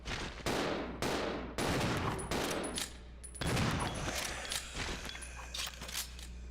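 Gunfire in the survival horror game Resident Evil Zero: several loud, sharp shots spaced irregularly, each followed by a brief decaying tail, with quieter game ambience in between.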